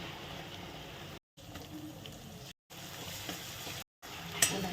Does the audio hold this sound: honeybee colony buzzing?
no